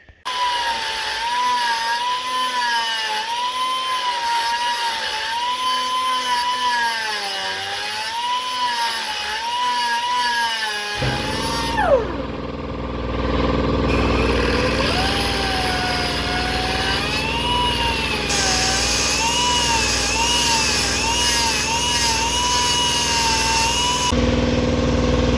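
An angle grinder whines loudly and continuously, then bites into metal with a harsher rasping roar as a crack on a farm machine is ground into a V before welding, close and alone with no talk.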